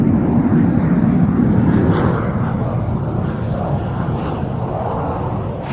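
Military jet aircraft performing at an airshow, a loud steady roaring engine rumble that fills the whole stretch, slowly easing slightly as it passes, with no voices.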